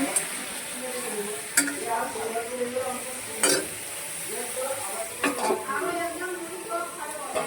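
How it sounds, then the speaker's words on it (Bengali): Potato pieces fry in a pan of hot oil, set aside for a goat meat curry, giving a steady close sizzle with several sharp utensil scrapes and clinks as they are stirred, and no voice over it. "এখানে আলুটা ভাজছি মাংসের জন্য"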